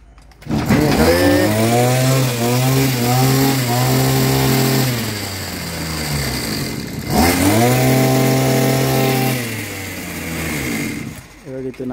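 A tree-cutting chainsaw at an agro service shop runs loud and near in two long sustained bursts, its steady engine drone holding for several seconds each before dipping briefly between them.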